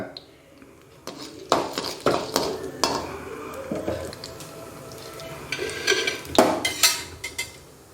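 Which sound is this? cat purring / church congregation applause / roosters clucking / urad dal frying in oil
urad dal frying in oil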